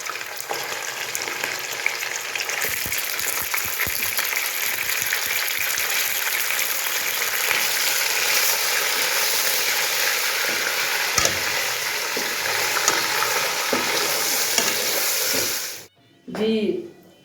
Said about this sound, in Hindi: अब मैं डालती हूँ चिकन इसके अंदर।